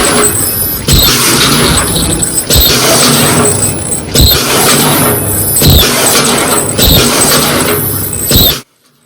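A loop handle machine runs in a paper bag factory, a loud, steady mechanical drone broken by a sharp clunking thump about every 1.7 seconds, repeating steadily before cutting off abruptly at the end.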